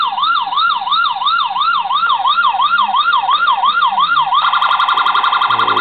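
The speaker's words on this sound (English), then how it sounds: "the siren, which is the same siren they use on all the other cars I've built. Just a 4-tone type siren. It has a wail, a yelp, air horn type sound." A custom 1:18 scale Royal Canadian Mounted Police model car sounds its four-tone siren loudly and alone, rising and falling in a steady wail before switching to a rapid yelp.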